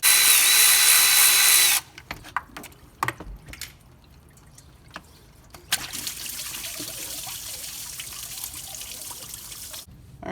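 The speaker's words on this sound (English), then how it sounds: "we can remove the 7 8mm bolts that hold the water pump to the block" A power tool whirs loudly for about two seconds as 8mm water pump bolts come off a Ford F-150 3.5 EcoBoost engine. Scattered metallic clicks, drips and rustling follow, then a steady faint hiss of trickling liquid.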